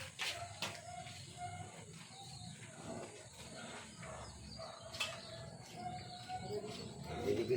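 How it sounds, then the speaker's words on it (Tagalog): Pet pigeons in a loft after feeding give soft, low cooing and fluttering mixed with faint chirps and shuffling, fairly quiet and close, with household background noise. "Tapos na po kumain yung mga ibon"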